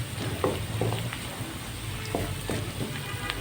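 Sliced onion and ginger garlic paste fry in a pan with a steady, close sizzle, broken by a few soft stirring scrapes and pops, no voices.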